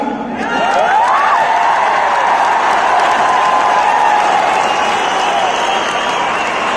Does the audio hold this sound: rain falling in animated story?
no